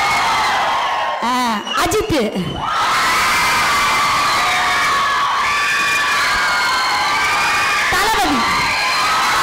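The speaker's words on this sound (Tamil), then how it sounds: "மிகப்பெரிய ஒரு மனிதரின் பெயரை சொன்னால் நாம் எல்லோரும் கை தட்டுறோம்" An auditorium audience at a Tamil debate show cheers, whoops and shouts loudly and continuously as a celebrity's name is called, with a voice briefly audible over the roar.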